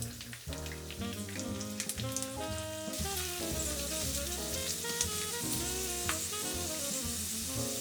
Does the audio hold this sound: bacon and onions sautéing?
yes